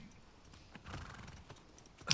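Horse sounds from The Last of Us Part II video game, a quiet whinny and hoof clatter that swell near the end, with no talking.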